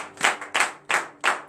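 Four evenly spaced, crisp claps from a congregation at a morning prayer service in Benin, fairly faint and with no talk over them.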